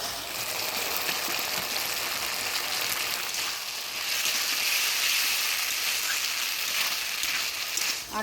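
Fried potatoes hitting spice paste with a little sugar in a village kitchen pan, sizzling and frying loudly and continuously up close, a bright crackling hiss throughout.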